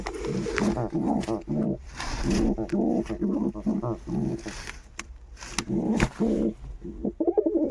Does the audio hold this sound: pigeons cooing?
yes